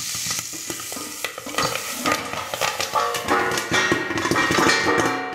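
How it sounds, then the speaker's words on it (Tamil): Popcorn popping in a covered pan on the stove while steam water drips back in, making a loud, dense crackle and sizzle with rapid irregular pops throughout. "இப்போ இது வந்து ஏன் சவுண்ட் வருதுன்னா, இந்த ஸ்டீம் வாட்டர் வந்துட்டு உள்ளே இறங்குது, அதனால சவுண்ட் வருது."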